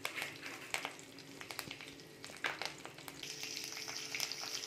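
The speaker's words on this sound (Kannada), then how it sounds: "ಯಾಕಂದ್ರೆ ಇವು ಜೀರಿಗೆ ಫುಲ್ ಫ್ರೈ ಆಗಬಾರ್ದು, ಸ್ವಲ್ಪ ಲೈಟಾಗಿ ಫ್ರೈ ಆಗಬೇಕು ಇವು" Cumin seeds and curry leaves frying lightly in oil in a pan over medium flame for jeera rice, giving a soft, steady sizzle with scattered crackles and pops and occasional stirring clicks, with no talking.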